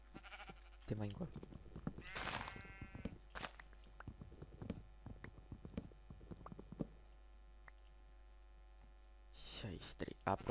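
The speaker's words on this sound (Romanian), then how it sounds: "Hei, oaie, te mai încolo." Sheep in the video game Minecraft bleat in several short calls at the start and again near the end, mixed with clicking game sounds while a person talks throughout.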